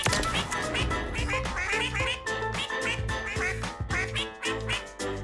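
Duck quacks pitched and sequenced to play a melody inside a Warzone match, a dense rhythmic run of loud nasal quacks over a steady beat.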